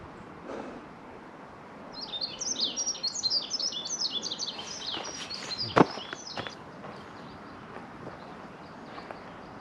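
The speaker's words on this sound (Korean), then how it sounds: "아, 새소리 죽이네요" Birds trill and chirp in a bright, busy chorus along a forest trail during a run, with footsteps crunching underneath and one sharp knock partway through, no speech.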